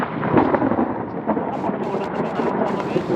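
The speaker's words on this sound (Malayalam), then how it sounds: "നല്ല ഇടിയും മിന്നലുള്ള നല്ലൊരു ക്ലൈമറ്റാണ്" Low rumbling thunder rolls continuously, deep and heavy, with rain faintly underneath, during a lightning storm at Kakkadampoyil, Kerala.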